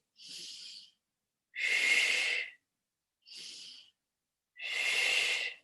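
Deep, slow breathing during a yoga core exercise: two long exhales alternating with two shorter inhales, each a soft airy rush separated by brief silences, close and alone without talk.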